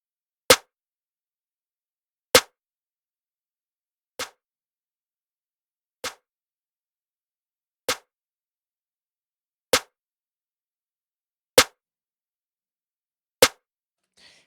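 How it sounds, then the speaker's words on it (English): Eight sharp snare drum hits, the attack boosted by a transient shaper plugin, each crack evenly spaced about two seconds apart, loud, isolated and dry against silence. "So let's take a listen to just the snare."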